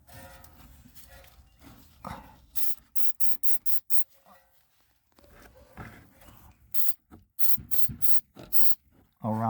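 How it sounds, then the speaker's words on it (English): An aerosol can of anti-rust spray hisses in a series of short sharp spurts around a new shock on a Chevy Impala, several quick bursts in a row, with quieter background noise in between. "I want to spray a little bit like some anti-rust."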